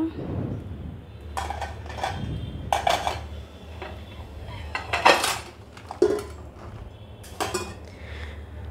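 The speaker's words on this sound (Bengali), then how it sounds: "এবার ঢাকনা খুলে আবারও উঠিয়ে নিচ্ছি পিঠা।" A lid clanks off a pan and chitoi pitha are scraped and lifted out with a metal utensil, several sharp clinks and scrapes spaced irregularly over a low steady background.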